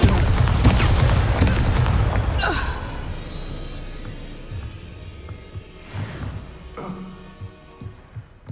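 Bombarda blasting spell in Hogwarts Legacy on PS5: a loud, close explosive boom with heavy rumble that fades over several seconds, followed by scattered debris cracks and smaller bursts.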